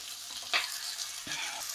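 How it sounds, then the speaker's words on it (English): Onion browning in a pan for coq au vin, a soft steady sizzle at low volume with a couple of faint stirring knocks. "we add our onion. We're just trying to brown our onion."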